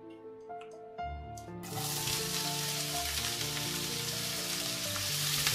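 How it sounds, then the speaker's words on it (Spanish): Grated onion dropped into hot olive oil in a pan, starting after a few soft tones and clinks into a loud, sustained sizzling hiss. "Y ahora va a meter la cebollita en la sartén."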